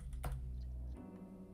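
Typing on a computer keyboard, a quick cluster of a few close crisp key clicks over a short moment, faint and alone.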